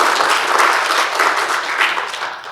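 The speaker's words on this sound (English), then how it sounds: "You can clap for that." Audience applause at a talk on Indigenous voices in the climate movement, a dense steady wash of many hands clapping throughout, close and loud, with no voices.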